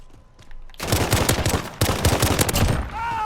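Rapid Glock pistol fire in the video game Modern Warfare, with two dense bursts of sharp, close shots separated by a brief gap. The firing is followed by a fading ring-out.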